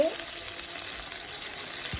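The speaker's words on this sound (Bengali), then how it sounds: "বন্ধুরা পেঁয়াজটা ভাজা হয়ে গিয়েছে, এখন একটু পানি দিয়ে দিচ্ছি" Water poured into a pan of frying onions with ginger and garlic, giving a brief splash at the start and then a steady close hiss of sizzling.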